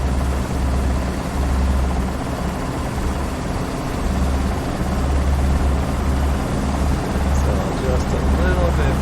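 Schweizer S300CBi helicopter piston engine and rotor run steadily as the collective is raised, a loud continuous drone with a throbbing low beat from inside the cabin, with a voice talking over it.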